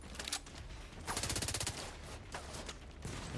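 Rapid automatic gunfire from a squad rattles in bursts in The Division 2 shooter, dense overlapping shots at moderate distance with brief pauses between volleys.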